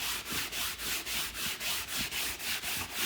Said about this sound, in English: we're going to sand the surface with the 280 grit paper